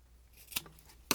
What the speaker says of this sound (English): So I'm going to cut it right there.